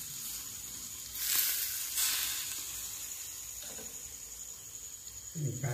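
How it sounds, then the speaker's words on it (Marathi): Masala frying in a pan, cooked gradually until its moisture steams off, gives a steady soft sizzle with a couple of brief louder bursts, close and fairly faint. "सगळ्या मसाल्यावर असं हळूहळू करून आपल्याला टाकायचे, आणि ते चांगले फ्राय व्हायला पाहिजे"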